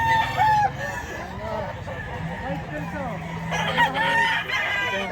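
A rooster crows loudly and chickens cluck close by at a poultry sale, with a voice talking over the birds throughout.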